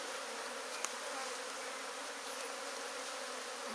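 Honeybees humming steadily around an open hive during colony splitting, a dense continuous buzz close by with no voices.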